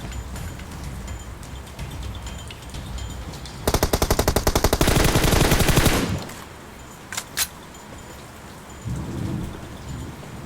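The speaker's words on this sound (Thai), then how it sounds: "ฟ้าร้องอ่ะ" Thunder in the mobile battle royale game PUBG Mobile, a loud rumbling crash lasting about two seconds over steady rain, with rapid gunfire bursts just before it and a few sharp sounds afterward.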